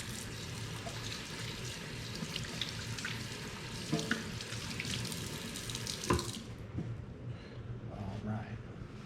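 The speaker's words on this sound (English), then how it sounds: "Wash your hands real quick." Hands being rinsed under a running kitchen tap during a ribeye fajita cooking session, a steady broadband water rush that fades out near the end, with voices speaking over it and faint sizzling in the background.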